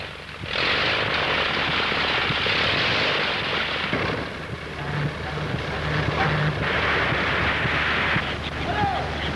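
Aircraft engine from a 1932 film, a loud broadband propeller roar that swells in and holds steady with slight surges, while a voice speaks briefly over it.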